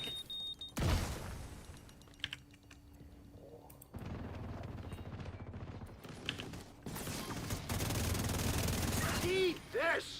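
Rapid bursts of gunfire from an online shooter game crackle in clustered volleys, broken by short pauses and other game effects, with a player talking at times.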